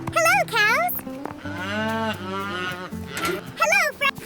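Cartoon cows on a farm moo in a run of drawn-out, wavering calls, loud and close, over a steady musical backing with brief pauses between calls.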